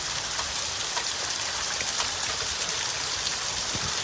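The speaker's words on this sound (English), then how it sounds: "rain's picking back up again" Steady rain pours down during a thunderstorm, a dense even hiss with scattered drops pattering close by, continuous and fairly loud throughout.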